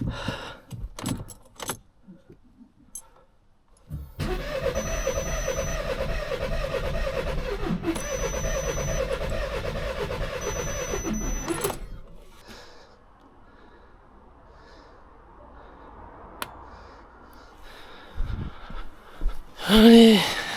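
An Audi A3 engine being cranked with a booster pack. The starter grinds loudly and continuously for about eight seconds, then cuts out, with handling clatter and scattered knocks before and after.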